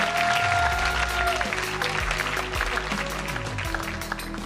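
An award-ceremony audience applauds as a Changemaker award is presented, with dense, continuous clapping over a bed of stage music that holds steady before easing slightly.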